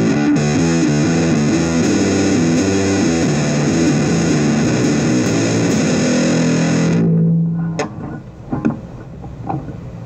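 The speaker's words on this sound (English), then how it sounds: "Alright, now pick with distortion." A five-string Ibanez Gio Soundgear bass played through a distortion pedal, with loud buzzing picked notes that ring for about seven seconds before cutting off, leaving a few faint clicks and taps.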